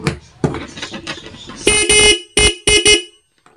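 A vehicle's stock horn honks in a series of loud, close blasts: one long sustained tone followed by three shorter beeps with brief gaps between them, heard on its own.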